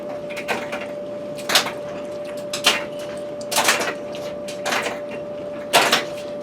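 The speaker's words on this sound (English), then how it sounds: "I apologize about my noisy dryer" A noisy home clothes dryer running nearby, with a steady droning hum and dull thumps from the tumbling load at irregular intervals of roughly a second.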